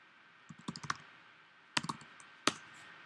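Keys clatter on a computer keyboard in a quiet room: a quick burst of several taps, a pause, another short cluster, then a single sharp keystroke, all crisp and close.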